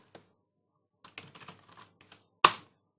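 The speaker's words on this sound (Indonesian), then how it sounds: "Saya ketikkan yang salah." Keys tapped on a computer keyboard while entering R code, a sparse cluster of quick soft keystrokes ending in one sharp, louder key strike, close and otherwise quiet.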